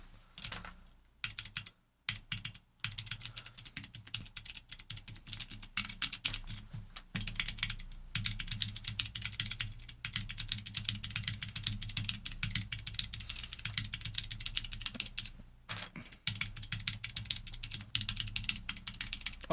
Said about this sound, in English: These are Sherbert switches, which have click bars.